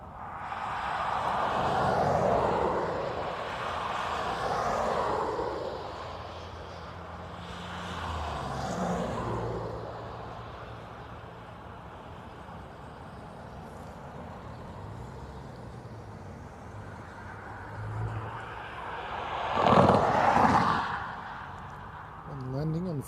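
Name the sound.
aircraft landing at Dublin Airport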